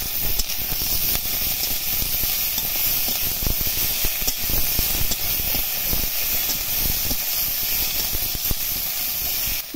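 Garlic, ginger paste and chopped tomato frying in a pan with browned onions, a loud steady hiss and sizzle with no talking.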